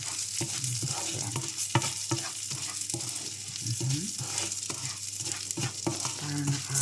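Rice fries with browned garlic in a pan: a continuous sizzle close up, broken by repeated scraping clicks of stirring at an irregular rhythm, with no voices.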